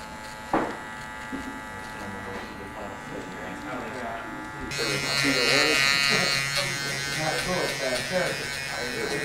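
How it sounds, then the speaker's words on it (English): Electric shaver buzzing steadily in a barbershop while blending a high fade haircut, the motor hum growing louder and brighter partway through as it presses closer, with someone talking over it throughout. "That's how you blend it with the shaver right there."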